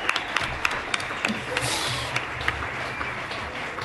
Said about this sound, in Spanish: un aplauso muy fuerte por este regreso del festivalito